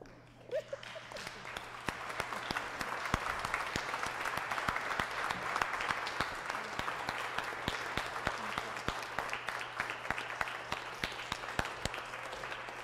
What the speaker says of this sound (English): I hope we all stand up and give her a round of applause